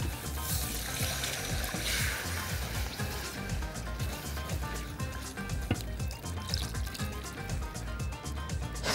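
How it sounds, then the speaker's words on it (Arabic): Milk poured gradually into a flour roux and whisked for béchamel: a steady wet sloshing and trickling with quick whisk scrapes and ticks, close and continuous, with no voices. "تعالوا بقى ننزل اللبن حبه حبه وهنضرب علشان البشاميل بتاعي ما يكلكعش"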